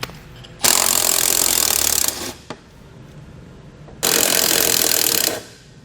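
A power tool spins out 8mm bolts on a 2019 Ram 1500, with two loud, sustained close-up whirring bursts of about one and a half seconds each, separated by quieter clinks and handling noise.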